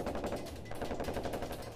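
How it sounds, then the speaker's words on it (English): Sustained burst of rapid automatic gunfire in an Afghanistan combat firefight, rattling loudly and continuously through the whole stretch with dense, echoing shots and no voices. "the first gunfire burst"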